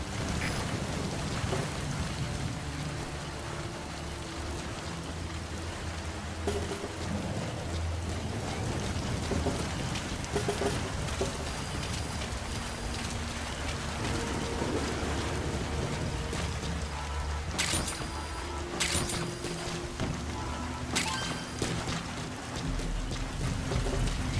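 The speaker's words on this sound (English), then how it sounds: "The sound of rainfall should help to mask your footsteps." Steady rain falls throughout in a Metal Gear game, a dense wash of drops with a low rumbling bed beneath, no voices.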